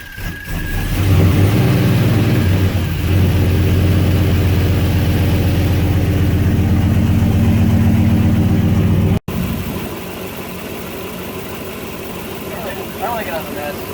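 Winnebago motorhome with a swapped LS V8 idling close by, a loud, steady low rumble that cuts out abruptly partway, then a quieter mechanical hum as a voice talks over it.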